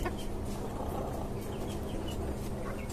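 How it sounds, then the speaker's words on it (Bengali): A Tiger breed chicken in a farm cage gives soft, intermittent clucks over a constant, noisy background hum. "এটা হচ্ছে আমার টাইগার মুরগি।"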